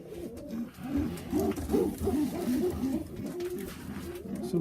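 Pigeons coo steadily in a loft or coop, several low rounded calls overlapping in a continuous murmur with no talking.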